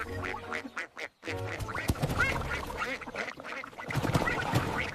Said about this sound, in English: Waddling ducks quack in unison and grow louder.